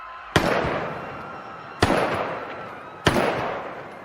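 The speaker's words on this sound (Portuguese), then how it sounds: "disparou 3 tiros de advertência para o alto" Three sharp, loud warning gunshots fired into the air go off about a second and a half apart, each trailing into a long, echoing rumble.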